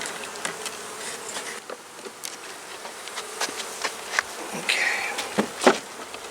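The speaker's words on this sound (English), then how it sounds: "Forgot there were bees on that frame." Honey bees buzz continuously up close on a hive frame, a dense humming swarm with individual insects flying past the microphone now and then.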